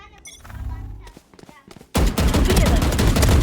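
Odin machine gun firing in the video game Valorant: after about two seconds of scattered clicks and thuds, a loud, dense burst of rapid automatic gunfire cuts in and keeps going to the end.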